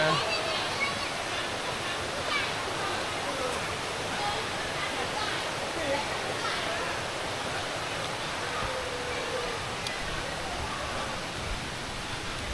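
Khlong Kaeo waterfall sends up a steady, even roar of rushing water, loud and close, holding constant throughout.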